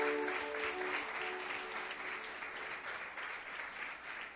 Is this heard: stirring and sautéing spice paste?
no